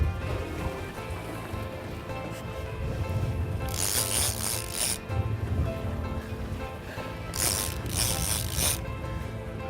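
A fishing reel on a boat is cranked while fighting a mahi at sea, giving bursts of fast ratcheting clicks between steady mechanical whirring, set against constant engine and water rumble.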